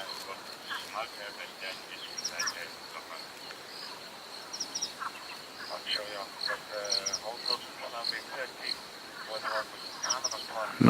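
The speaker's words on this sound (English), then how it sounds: "Mostly just foam nest frogs calling around us." Foam nest frogs calling at night in the bush, a scatter of short clicking and chirping calls near and far over a steady high insect-like whine, with quiet talking now and then.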